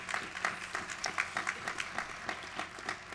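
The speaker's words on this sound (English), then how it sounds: "let's give our Master of Ceremonies a great round of applause." Audience applause for the Master of Ceremonies at a 250th anniversary event for the Fincastle Resolutions, a fairly faint, steady patter of clapping with irregular peaks, heard from a distance.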